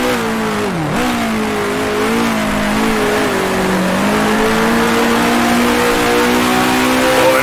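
A 1966 Formula One car in Grand Prix Legends accelerates hard out of the Monaco hairpin, its engine note dipping then climbing steadily in pitch, loud and continuous throughout.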